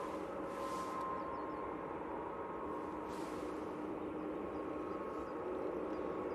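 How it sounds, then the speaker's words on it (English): An Airbus A321neo airliner departs Manchester Airport with a steady, broad jet roar that holds at an even level throughout, distant and alone with no voices. "And this A321neo's off to Delaman."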